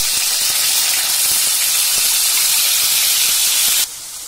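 Chillies, onion, curry leaves and coriander hit hot oil in a pan, producing a loud, steady sizzle and hiss that runs continuously before suddenly dropping to a quieter sizzle near the end.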